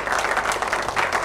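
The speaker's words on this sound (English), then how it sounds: "Give them all a warm applause." Audience applause for visiting US students and teachers at a commemoration event, steady dense clapping filling the whole moment at close range.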